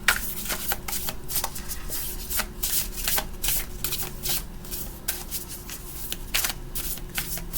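Tarot cards are shuffled by hand in quick repeated riffles and slaps, a close crisp papery flutter with short pauses between bursts.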